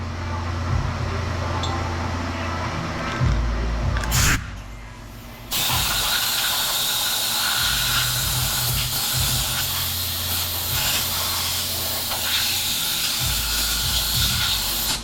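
Compressed air blasting debris out of a metal ingot mold before welding, a loud, close hiss held for a few seconds, then a brief pause and a longer continuous blast, with no talking.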